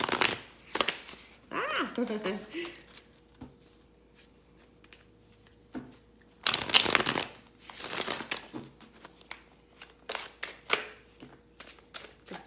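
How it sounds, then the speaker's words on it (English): Oracle cards being shuffled by hand in a quiet room, several short bursts of riffling and crisp card slaps spread across the span, with a brief exclamation and some speech in between. "Just want to give my cards a good shuffle."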